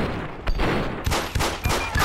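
Gunfire from the video game GTA 5 on PC, police-mod setting: several sharp, loud shots in an irregular burst, with a few blasts spaced through the latter half of the moment and no talking.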